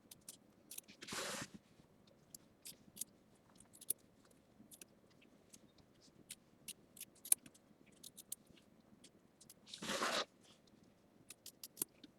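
Scissors trimming fabric on a quilt block, two short crisp cutting bursts separated by quiet handling clicks and small rustles, close and alone.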